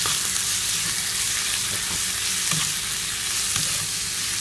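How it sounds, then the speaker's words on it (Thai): Razor clams stir-fried in a pan with red curry paste, a steady loud sizzle and crackle with occasional stirring scrapes, close up and with no voices. "หอยลอกใส่เลยนะครับ ใส่ไปทั้งถุงเลยหอยลอด"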